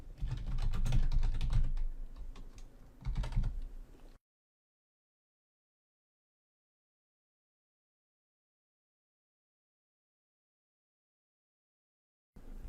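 A computer keyboard clatters as a database name is typed in quick bursts of keystrokes for about four seconds, followed by long silence.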